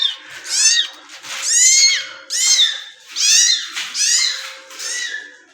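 Several young kittens meow loudly and repeatedly, giving six high, wavering cries in quick succession that sound close and insistent. There is no talking over them.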